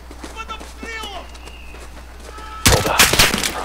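Gunfire erupts in the Modern Warfare video game campaign: a burst of loud, dense shots begins past midway and continues to the end, after a stretch of voices talking over low background.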